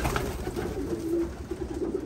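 Racing pigeons coo softly in repeated low throaty bursts, close by over a steady background hum.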